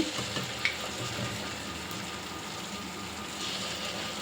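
Mysore bonda batter frying in very hot oil, a steady close sizzle and bubbling that carries on evenly with a brief crackle near the start.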